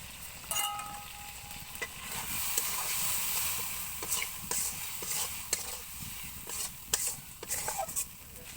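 Shrimp with gourd leaves sautéing in a pan, a steady close sizzle and hiss with a spatula tapping and scraping the pan at irregular intervals.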